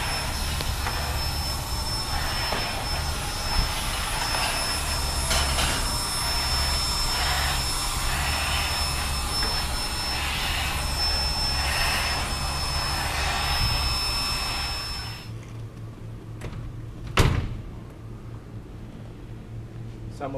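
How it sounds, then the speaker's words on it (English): A vacuum cleaner running with a steady, loud whining drone for about fifteen seconds, then cutting off abruptly, leaving a quieter background with a brief bump. "The next day we find Zach vacuuming."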